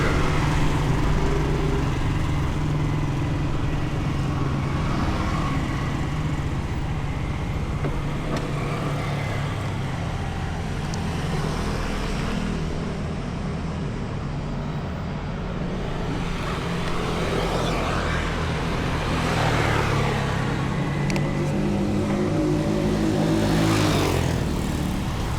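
Motorcycles and cars passing on a busy provincial road in Cavite near midnight, a continuous loud engine drone with several vehicles swelling past close by.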